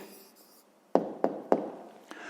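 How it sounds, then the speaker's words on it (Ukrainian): A pen writing the answer to a fifth-grade maths exercise by hand: three sharp, close taps in quick succession and a lighter fourth, with a faint voice at the start. "записуємо відповідь, пишемо відповідь"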